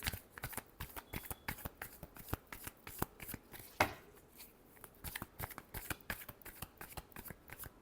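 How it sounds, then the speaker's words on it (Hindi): Deck of playing cards being shuffled at close range, with a quick run of crisp riffling snaps and flicks repeating steadily throughout, no voices. "Last shuffle."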